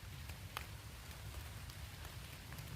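Light drizzle falls at a campsite at night, a soft, continuous patter of fine raindrops on surfaces, low and even throughout with no voices.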